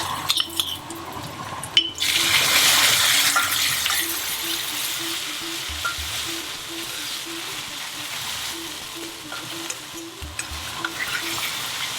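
Ginger garlic paste added to tomatoes and onions cooking with a piece of cinnamon for a Kashmiri kadai paneer masala, frying with a loud sizzle that bursts up at the start, then a steady hiss with stirring scrapes throughout.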